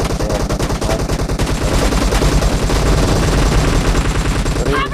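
Rapid automatic gunfire sprays in a video game arena match, dense repeated bursts loud and continuous throughout with background game sounds and faint talk.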